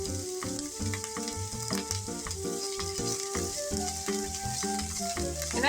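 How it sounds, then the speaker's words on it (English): Onions sautéing in a pan for a kid-friendly corndog bake, a steady sizzling hiss that runs without a break beneath music with a clear rhythmic beat. "I'm just going to saute them up until they're nice and transparent"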